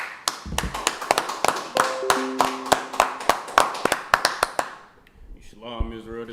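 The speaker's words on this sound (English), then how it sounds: "All right, let's clap it up." Rhythmic group hand clapping at a Tuesday brotherhood class of the Israelite School of Universal Practical Knowledge in Harlem, sharp claps in a steady beat for about five seconds, then a voice and low tones take over near the end.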